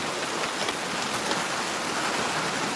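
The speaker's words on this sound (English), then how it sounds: "it is definitely raining pretty good" Steady rain pours down outdoors close by, a dense continuous patter of drops with no talking.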